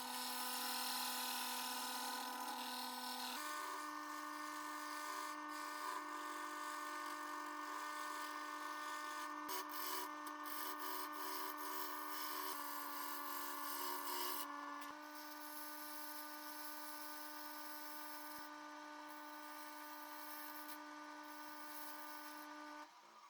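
A wood lathe spins steadily while a tool shapes the base of an off-centre turned wooden cup, giving a continuous whirring hum with shifting scraping tones as the cut changes, loud and close with no talking.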